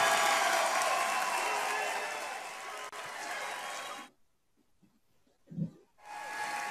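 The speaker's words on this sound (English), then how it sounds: "You can applaud now for Julian Assange." Convention crowd applauding for Julian Assange at a Green Party gathering, a dense continuous roar of clapping heard through a hissy feed that cuts out briefly, then resumes.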